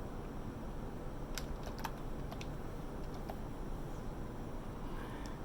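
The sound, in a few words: typing a password on a computer keyboard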